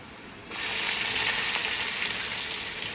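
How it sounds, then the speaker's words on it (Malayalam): Onions hit hot oil already holding cinnamon, cloves, cardamom and pepper for a pulao, a quiet pan giving way to a sudden loud, steady hiss of frying that continues evenly, close by and without talk. "പട്ട ഗ്രാമ്പൂ ഏലക്കായ കുരുമുളക് അതൊക്കെ ഇട്ടു ഇനി നമുക്ക് സവാള ഇടാം"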